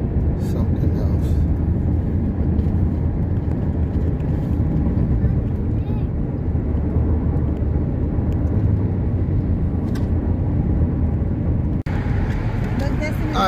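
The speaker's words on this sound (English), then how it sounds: "sorry about the noise. The windows are open." Car driving with its windows open on the road to Ensenada, Mexico, with a steady loud roar of road and wind noise throughout and a brief bump near the end.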